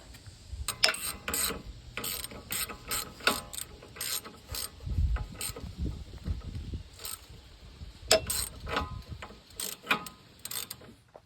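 A socket ratchet clicks in rapid bursts while a 17mm socket tightens a nut on the front strut assembly of a 2018–2025 Subaru Ascent. The pawl clicks are close, crisp and repeated across the whole stretch, with occasional low metallic thumps.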